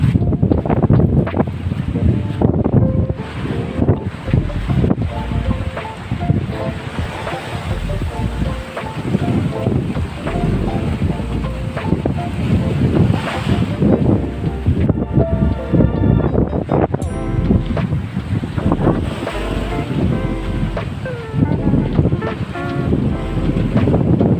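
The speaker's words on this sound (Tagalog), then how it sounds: "Ang sarap pakinggan yung simoy ng hangin" Strong sea wind gusts steadily across the microphone on a beach in Bicol, Philippines, with waves washing on the shore underneath, a continuous blustery rush with no voices.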